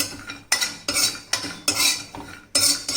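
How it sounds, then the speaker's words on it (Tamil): Cashews dry-roasting in a pan for a sugarless dry fruits burfi, stirred with a utensil: repeated scraping, rattling strokes roughly every half second to second, close and moderately loud, with no talking. "ஸோ இப்போ பார்த்தீங்கன்னா முந்திரி நல்லா வறுபட்டுருச்சு, முந்திரி நல்லா வாசனை வருது"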